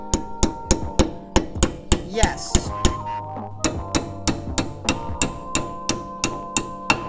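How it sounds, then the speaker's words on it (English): Steady metallic hammer strikes drive brake pad retaining pins into a caliper during a 240SX CTS-V big brake upgrade: about twenty sharp, ringing taps in an even rhythm, close, with a brief pause partway and a single spoken word. "take a hammer and hammer in the pins"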